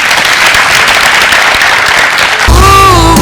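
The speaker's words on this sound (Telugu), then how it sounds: "అందరూ వీళ్ళకోసం గట్టిగా చప్పట్లు కొట్టండి." A studio audience on a Telugu TV show claps loudly and continuously, dense and close, and a sharp musical sting cuts in near the end.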